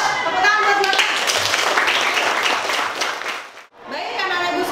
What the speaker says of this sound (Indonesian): Yuk, tepuk tangan buat Juangga